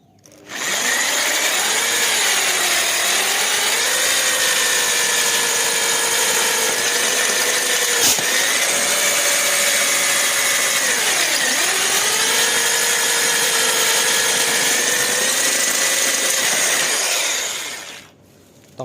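A power drill whines steadily for about sixteen seconds, its pitch dipping twice as the bit bites into steel tent-frame tubing, drilling holes, with no talking.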